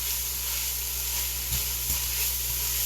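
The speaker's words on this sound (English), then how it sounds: "I'm going to let this saute until those onions are translucent" Sausage and onions sautéing in a sauce pan give a steady, close sizzle and hiss, with a couple of brief stirring scrapes in the middle.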